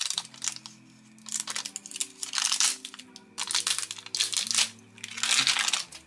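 Paper packaging around a pair of Nothing Ear (stick) earbuds is crinkled and torn open in several loud, close bursts of rustling and ripping, with short pauses between them.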